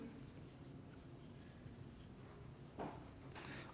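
Chalk or marker writing on a board during a chemistry lecture, a steady soft scratching of strokes with a brief louder scrape near the end, faint and close, with no talk over it.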